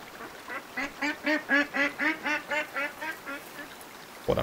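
A duck in the hunting video game Way of the Hunter quacks in a steady run of about a dozen evenly spaced, nasal calls, fairly loud and alone, ending with a sudden burst of noise.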